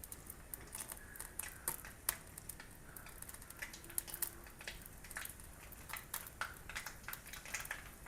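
Mustard seeds crackle in hot oil in a clay pot while Kerala fish curry is being made: faint, scattered little pops and ticks over a quiet kitchen background.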